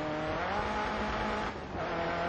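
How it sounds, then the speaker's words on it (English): Ford GT40 race car engine in the video game GRID Autosport, a steady loud engine drone with sustained harmonic tones and a brief dip in level partway through, heard alone. "And it's a GT40, so it sounds spectacular also."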